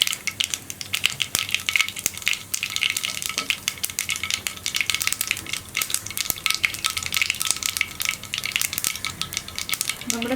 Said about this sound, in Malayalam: നമ്മുടെ കടുക് പൊട്ടി കഴിയാറാവുന്നുണ്ട്.